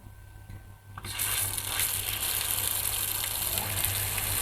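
Water suddenly bursting out of a newly installed Shimge PZ750 pump drawing from a well through a one-inch pipe, a loud continuous gushing rush starting after a second of motor hum and holding steady.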